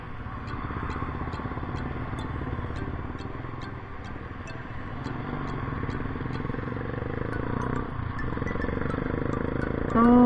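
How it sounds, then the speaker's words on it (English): A 2020 Honda Click 125i scooter engine drones steadily while riding, with wind rumble and a faint repeating ticking, growing slightly louder toward the end. "ngayon lang ako nakapag-ride gamit to brand new motorcycle ko, Honda Click 125i"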